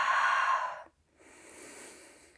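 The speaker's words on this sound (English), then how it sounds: "Now I'm going to focus on breathing." Breathing during a prone Pilates exercise on a fitness chair: a long, fairly loud breath, a short pause, then a softer, longer breath, close to the microphone with no talking.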